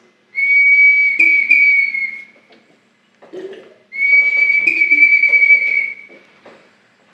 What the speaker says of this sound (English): the sound of this whistling bottle is